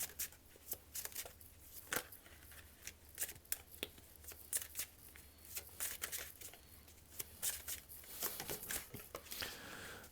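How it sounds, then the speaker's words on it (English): Playing cards are shuffled and riffled close up, with rapid papery flutters and snaps in repeated bursts, quiet and without talking. "while there's moments of silence while I may be shuffling the cards"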